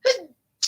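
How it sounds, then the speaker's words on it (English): A single sharp, close sneeze bursts out, followed by a brief pause and the start of another breathy exhale. "Oh, I don't like sneezing."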